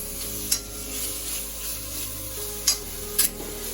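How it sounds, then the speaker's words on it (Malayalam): Ginger with green chillies and curry leaves is stirred and fried in oil in an iron pan, a steady sizzle broken by a few sharp spatula scrapes against the metal. "ഇനി ഇത് നല്ലോണം ഇളക്കി കൊടുക്കുക"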